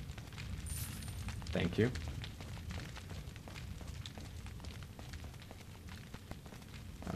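A grenade blows up in Resident Evil 4, one sharp, fairly loud burst about midway with a short rumbling tail, set within ongoing game noise while a person talks.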